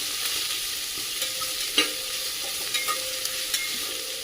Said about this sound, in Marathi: कांदा चांगला परतून घ्यायचा आहे व्यवस्थित